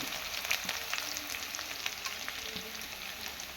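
Ginger and curry leaves sizzle steadily in hot oil in a pan, a close, continuous crackling fry with occasional spits and a faint stir.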